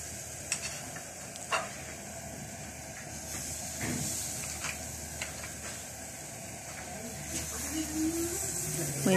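Food grills over glowing charcoal on a clay kanoun brazier, giving a steady low hiss and sizzle with occasional soft pops and knocks, and a voice is briefly heard near the end.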